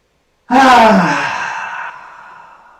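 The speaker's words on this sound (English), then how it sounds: "open the mouth, pull out the tongue, breathe out" A single long, forceful exhale through a wide-open mouth with the tongue out, part of a yoga breathing practice, starts abruptly, then trails off slowly in a breathy, close rush.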